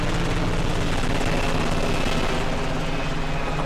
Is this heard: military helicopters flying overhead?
yes